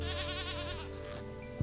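A sheep in Stardew Valley bleats once, close and wavering, over a steady low game background hum with a brief click at the end.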